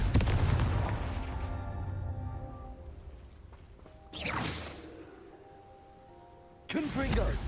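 A Confringo fire spell in Hogwarts Legacy, a blast that starts loud and fades out, then a bright whooshing burst around the middle and another sudden burst at the end.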